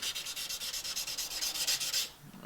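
A knife being sanded by hand with sandpaper during a repair, a steady rhythmic back-and-forth rasping of about a dozen close, loud strokes that stops near the end.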